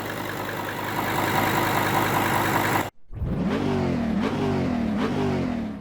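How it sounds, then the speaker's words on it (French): Steady mechanical whir of a Volkswagen Touareg V10 air suspension compressor running, loud and continuous, breaking off briefly midway before resuming with a warbling, slightly rising hum and faint engine noise beneath. "on a un compresseur qui tourne, qui monte en température, qui donne un peu plus de 5 bars"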